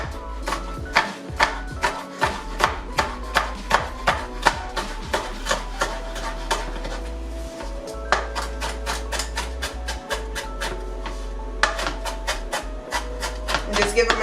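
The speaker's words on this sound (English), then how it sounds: "And just give them a nice rough chop" Jalapenos are roughly chopped with a knife on a cutting board. The blade hits the board in rapid, evenly spaced taps that run in quick bursts close up, over a low steady hum.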